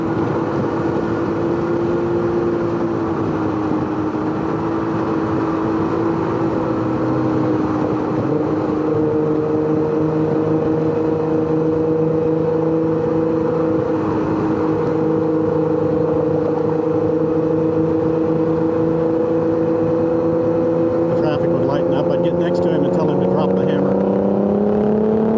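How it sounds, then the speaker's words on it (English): Car running on E85 fuel accelerating steadily, its engine tone climbing continuously for about twenty-five seconds at a loud, even level. "Barely sounds like that motor's spinning at all."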